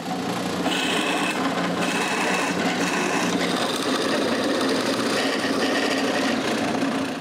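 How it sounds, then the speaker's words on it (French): A drill bores holes into wooden drawer frames for a nine-drawer chest, a steady loud whirring grind that runs continuously with slight shifts in pitch and no talk. "je marque l'endroit où je dois percer des trous dans les cadres et je les perce"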